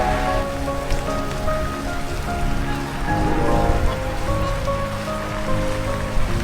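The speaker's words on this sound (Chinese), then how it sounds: "一出发给我来一场大冰雹。" A heavy hailstorm hits during a winter cycling trip in Iceland. Dense, unbroken pattering of ice pellets swells and eases for several seconds, with no voices.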